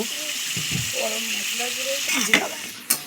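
A spoon stirring chilli soybean chunks with chilli and tomato sauces in a sizzling frying pan, a steady fry hiss under scraping strokes and a couple of sharp clinks near the end.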